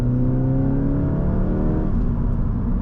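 Piped-in engine sound inside a car accelerating on the road: a steady, droning engine note with tones that climb and shift as speed builds, heard from the cabin over road rumble.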